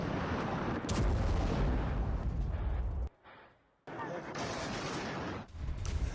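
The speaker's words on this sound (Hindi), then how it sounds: "हिजबुल्लाह और आईडीएफ के बीच में ये फायरिंग हो रही है" Dense, loud rumble of gunfire and explosions in an exchange of fire between Hezbollah and the IDF on the Lebanon border, sustained bursts with a brief lull midway, and a voice speaking over the din.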